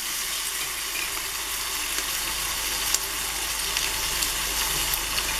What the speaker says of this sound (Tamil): போட்டுட்டு நல்லா ஃப்ரை ஆகணும்.